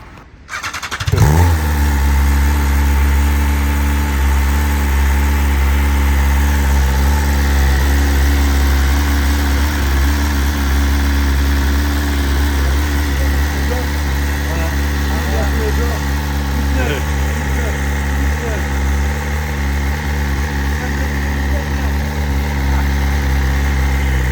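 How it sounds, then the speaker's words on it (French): A 2026 BMW S1000RR engine cranks and fires up for its first start, then settles into a loud, steady idle that rumbles close by for the rest of the clip. "Allez, vas-y, démarre. Premier démarrage, les gars."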